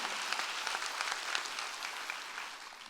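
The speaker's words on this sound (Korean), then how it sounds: "박수로 하나님께 합니다" Congregation clapping during a Korean church Sunday worship service: dense, steady applause from many hands filling the room, sustained and fairly loud throughout with no speech.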